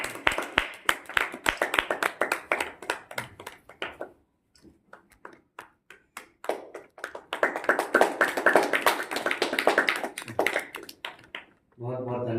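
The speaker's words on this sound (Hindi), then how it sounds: "तालियां बजाते रहना।" An audience claps at a Jain gurukul convocation ceremony, with steady crowded applause that breaks off around the middle and then returns just as strongly, while someone talks over parts of it.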